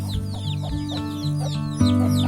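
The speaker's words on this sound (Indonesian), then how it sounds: "Dari sini nampak sebuah kandang yang digunakan untuk memelihara ayam kampung." Village chickens cluck near a wooden chicken coop, several birds producing close, steady overlapping clucks and calls that grow louder toward the end.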